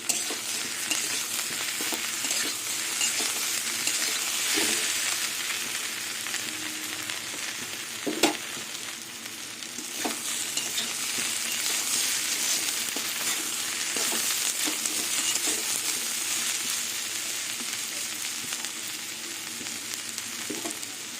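Ivy gourd frying with potato and onion in a pan, a continuous close sizzle with regular stirring scrapes and occasional utensil knocks, no voices.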